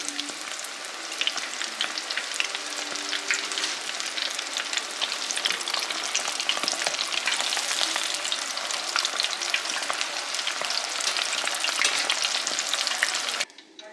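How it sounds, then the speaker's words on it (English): Dove breast pieces fry in hot oil, giving a loud, steady, dense sizzle with crackling pops that carries on unbroken from start to finish. "Each batch cooks really quick, so it's only about a couple of minutes that they're in the hot oil."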